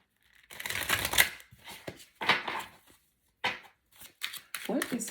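Brisk riffling and clattering of playing cards being shuffled during a tarot reading, in several separate bursts with short pauses between them, fairly close.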